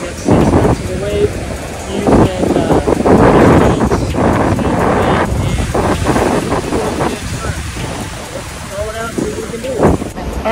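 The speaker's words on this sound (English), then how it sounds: "It's really windy today." Strong wind buffets the microphone on a Cape Canaveral beach while fishing in small surf, a loud, continuous rushing roar with gusts and faint wave wash underneath, and someone talks intermittently over it.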